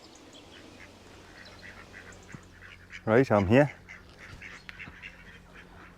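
Ducks at a reservoir give a short burst of three or four loud, close quacks in the middle, over quiet outdoor ambience, with someone speaking briefly nearby.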